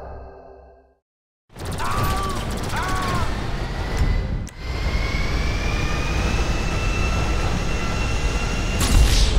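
Airplane engine roar in the video game GTA V, a loud sustained jet-like drone with rising whine that starts abruptly after a brief silence and holds steady, with a short dip and a clunk midway.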